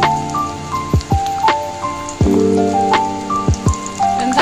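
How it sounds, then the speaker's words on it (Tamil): Heavy rain falls outside a home kitchen, a steady, fairly loud patter with scattered drips and splashes and no talking. "அப்படியே உங்களுக்கு சைடில் மழை சவுண்டு கேட்குதுங்களா?"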